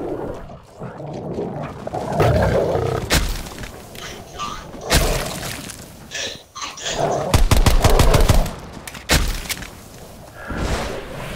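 Rapid gunfire in Call of Duty Cold War Zombies, with loud automatic bursts and heavy thuds amid chaotic game noise, rising to a dense fast volley near the end.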